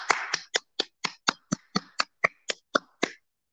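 A crisp run of about thirteen evenly spaced hand claps in a quick, steady rhythm, close and clear, with no voices.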